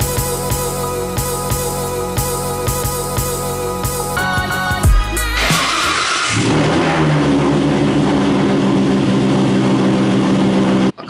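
A car engine on a hot day bursts into a loud rev as the car drives onto a trailer, after a stretch of rhythmic tonal sound. It then settles into a steady, close mechanical drone.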